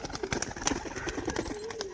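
A female pigeon kept for sale coos softly among other birds, with low repeated coos and faint chirps over light background noise.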